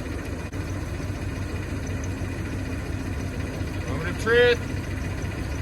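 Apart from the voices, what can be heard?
Chevy G30 RV engine idling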